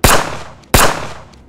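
Two loud, booming gunshots about 0.7 seconds apart, each with a sharp crack and a long fading echo, used as a dramatic sound effect in a Spanish-language horror story narration.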